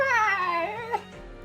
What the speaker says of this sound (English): I think he meowed in the middle of a yawn